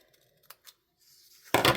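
Scissors make a single crisp, close snip while trimming paper for a junk journal, after a few soft faint rustles.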